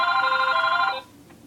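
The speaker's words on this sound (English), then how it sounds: "Okay, it stopped ringing." A telephone bell rings with a steady, bright trill for about a second, then cuts off, leaving quiet room tone.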